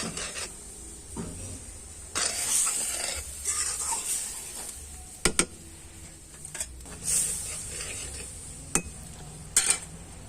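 A spoon scrapes and stirs elephant foot yam frying with yogurt in a pan, soft rasping strokes over a quiet sizzle, with a few sharper clicks of metal against the pan and no talk.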